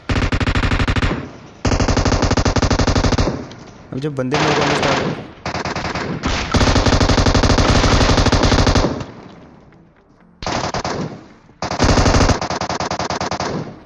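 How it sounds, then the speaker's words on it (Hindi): Long bursts of rapid automatic M249 machine gun fire from a video game, loud and close, stopping and starting several times, with a brief voice between bursts. "M249 चलने की आवाज़ आती है"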